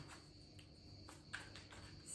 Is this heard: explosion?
no